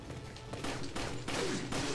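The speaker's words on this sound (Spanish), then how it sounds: "Estoy fallando los disparos." A rapid burst of gunfire in Resident Evil 4 cracks out in several clustered shots, fairly close and loud, with no voices over it.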